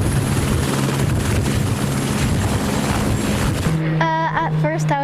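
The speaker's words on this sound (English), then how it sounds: "Their first order, a helicopter ride around the airport." A helicopter flies around an airport with a loud, steady rotor and engine roar, close and continuous, before a person starts talking near the end.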